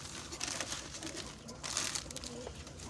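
Caged laying birds coo quietly in a small enclosure, soft repeated low calls mixed with faint rustling and crinkling noises.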